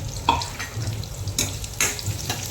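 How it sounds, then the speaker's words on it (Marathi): Paneer masala with cumin fries in a pan, a steady close sizzle broken by a few scraping stirs of a spoon, with no talk. "तर हे सगळं एकत्र टाकून देते मी आणि फ्राय करते."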